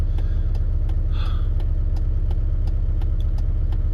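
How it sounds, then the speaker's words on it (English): A diesel truck idles during DPF regeneration with a steady, close, low engine rumble. Faint periodic ticks and a brief higher whine sit over the drone, and no one talks. "DPF collects all the diesel particulates, stores them up, and then you sit here while it blasts them all back out the exhaust"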